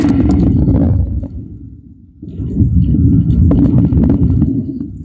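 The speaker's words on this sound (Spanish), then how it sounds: "Tambor tormenta, tambor trueno." A thunder drum rumbles loudly in deep, rolling waves, dipping briefly into a softer swell before building back into a sustained thunder-like roar with scattered rattling.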